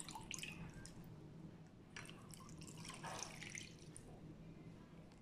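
Coconut water being strained, dripping and trickling into a container in quick, irregular drops and small splashes, faint and close, with no voices.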